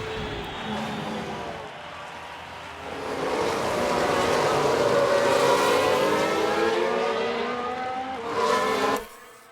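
A Formula 1 race car in the F1 Manager 2022 video game spins after a collision, its engine note swelling and wavering in pitch over several seconds with a brief tire squeal near the end before cutting off.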